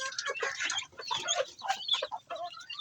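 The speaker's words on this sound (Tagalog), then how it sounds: "Yan po, may mga sisiw po tayo." Chicks, some hatched from an incubator, peep in a busy, close chorus of high chirps and clucks on a poultry farm at feeding time.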